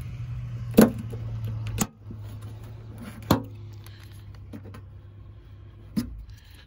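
Trim being pried off a BMW door panel, heard as three distinct sharp clicks and pops from plastic clips releasing, spaced a couple of seconds apart over a low steady hum.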